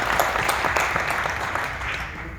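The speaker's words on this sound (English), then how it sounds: "a big round of applause to Danny and to the people who put this conference on" A conference audience applauds, a dense, steady round of clapping filling the room at even loudness throughout.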